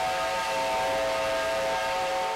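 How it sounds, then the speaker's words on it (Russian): A restored 1945 US-built steam locomotive on a holiday Victory train run gives a long, loud, steady whistle that holds one sustained tone throughout, with a hissy background and no voices. "В ежегодный праздничный рейс отправился поезд Победы."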